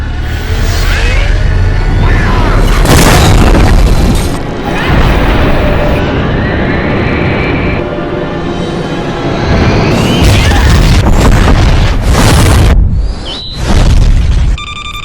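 A massive animated cannon, the Deliverance, fires in deep booming blasts and rushing roars, loud and close, with surging rumbles and crashes rising and falling, and a brief break partway through.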